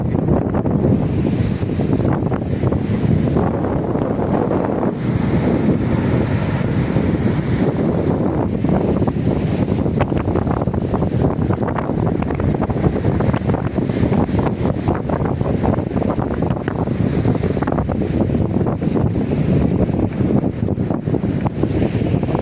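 At a beach where a few people bathe in the sea, wind and surf make a steady, dense roar that rushes without a break, buffeting the microphone throughout.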